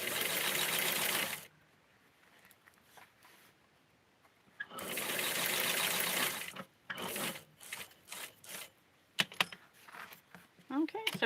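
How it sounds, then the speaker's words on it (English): A sewing machine stitches straight across a lace ruffle for a Barbie doll outfit in two close, steady runs of whirring. Clicks, rustling and fabric handling fill the quieter gaps. "And this one is the base, so I'm just going to sew it straight all the way across."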